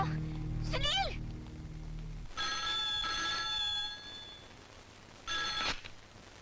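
A telephone rings in two warbling electronic bursts with a pause between them, heard in a 1996 Hindi action film scene after a stretch of music.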